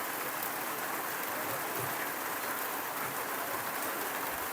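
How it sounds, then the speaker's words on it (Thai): Steady rain falls on an open field in rural Laos where cassava is being planted, a dense, even hiss of drops that holds at one level throughout, with no voices. "บัดตอนนี้ฝนตกเลย"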